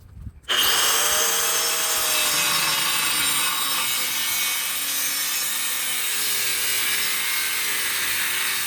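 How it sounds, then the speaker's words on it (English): Power saw cutting a horseshoe-shaped opening in a steel plate during rear brake work on a 2006 Chevrolet Silverado SS, starting abruptly and then holding a loud, continuous, close grinding whine with a slowly wavering pitch. "You gotta cut an opening, a horseshoe or C opening enough to put it around the axle."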